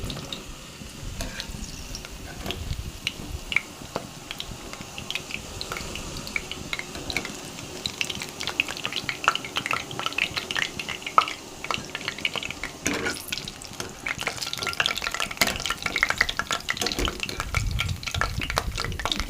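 Chhana jilapi, cottage cheese jalebi, fry in oil with a continuous sizzle and crackle, broken by occasional utensil scrapes and clicks, and grow a little brighter toward the end.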